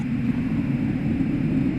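A pace vehicle starting up for a comic witches' broom race, a steady low engine-like drone held evenly throughout without breaks.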